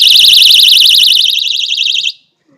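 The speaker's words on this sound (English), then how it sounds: "It is 121 decibel, 120 decibel alarm." Personal safety keychain alarm rated at 120 decibels, with a built-in flashlight, blaring a very loud, shrill warbling siren close up for about two seconds before cutting off abruptly into silence.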